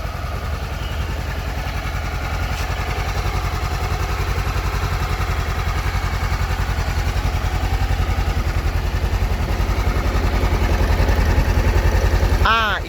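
Honda CB500X 2016 motorcycle engine idling steadily up close, a smooth, even low rumble that holds for the whole stretch, with a brief bit of speech near the end.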